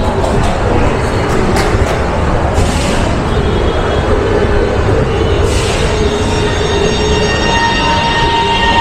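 Orange Line metro train in Lahore rolling past loudly, a steady roar of wheels and motors on rail with a few faint squeals and clanks, continuous throughout.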